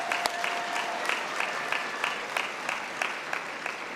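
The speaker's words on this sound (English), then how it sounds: "Please join me in giving them a well-deserved round of applause." A high school commencement audience applauds graduates' supporters with a dense wash of clapping and evenly spaced sharper claps standing out, steady throughout.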